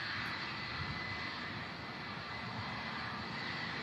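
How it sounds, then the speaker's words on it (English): Qatar Airways Airbus A350 on approach into Manchester Airport from Doha, a dense, steady jet engine rush and roar, fairly close and constant across a few seconds. "just on the approach as well now is the beautiful Qatar Airbus A350 coming in from Doha"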